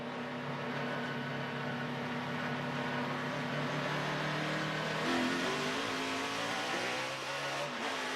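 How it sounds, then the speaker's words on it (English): A NASCAR Camping World Truck Series truck at Dover on a race restart, its engine droning steadily and then rising in pitch as the throttle opens, loud and close with no talk. "Let's listen to the throttle."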